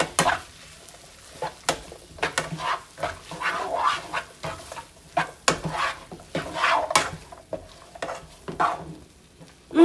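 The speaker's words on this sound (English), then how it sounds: "I'm going to add this butter in here. Get this butter, I'll melt it down." Butter melts and sizzles in a hot pan while pork chops are cooked, a crackling fry broken by irregular scraping and stirring knocks, close and moderately loud with no talking.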